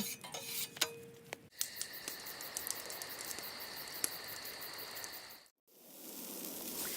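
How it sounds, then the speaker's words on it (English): A full pound of bacon sizzles on a MoJoe open-fire griddle, a dense steady crackling hiss with a few metallic clinks, broken by a brief silent gap before the sizzle returns. "this is a full pound package of bacon that we're putting on the MoJoe right now"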